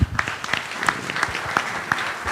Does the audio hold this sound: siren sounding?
no